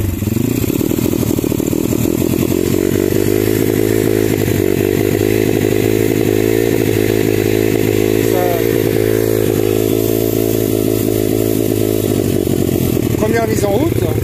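A 140cc SX Factory dirt bike engine idles steadily and loud up close, a low, slightly uneven chugging that holds for the whole stretch, with a few brief revs near the end.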